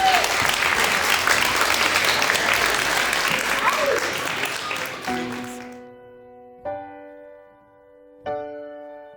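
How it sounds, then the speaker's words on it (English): Wedding guests applaud a bride and groom as they leave after their first dance, a dense, steady round of clapping that fades out over about five seconds before gentle music tones take over. "let's give them another big round of applause as they make their way out"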